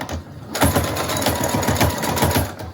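A sewing machine reverse stitching a fabric mask, running loud and close in a steady rapid mechanical chatter for a few seconds after a brief pause at the start.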